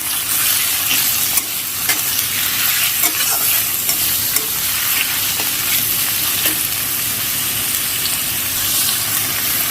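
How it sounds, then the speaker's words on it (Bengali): Chopped onion fries on a low flame in a steady, loud sizzle with continuous hissing, while frequent little ticks and scrapes from stirring pop up throughout, close by. "এর মধ্যে আমি পেঁয়াজ কুচনো পরিমাণ মতন কেটে নিয়েছি, দিয়ে এটা এবার আমি ভেজে নেব।"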